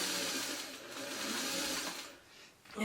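A sewing machine runs steadily while stitching fabric for a quilt block, a close, continuous mechanical whir that dips briefly near the end before picking up again.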